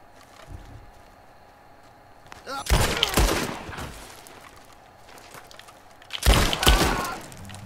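Gunfire in Red Dead Redemption II, with two loud bursts of shots a few seconds apart cutting through a quiet outdoor backdrop, plus faint footsteps or hooves in between.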